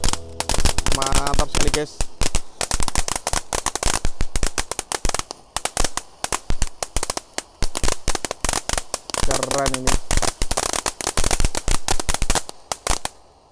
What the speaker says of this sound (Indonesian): Basoka Roman candle, di sini ada beauty fountain air mancur pretek.